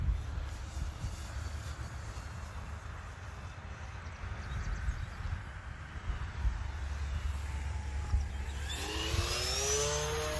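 An E-flite Turbo Timber RC plane flies a big loop on a windy day, its electric motor a steady distant whine over wind rumble, pitching up with a rising tone near the end.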